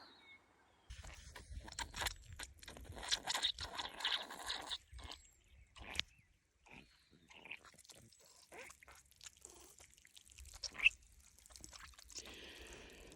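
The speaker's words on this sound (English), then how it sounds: "And here comes some water." Gravity-fed water arriving in an off-grid hydroponic garden bed with tomato and jalapeno plants, faint intermittent dripping, pouring and splashing in uneven bursts separated by near-silent gaps.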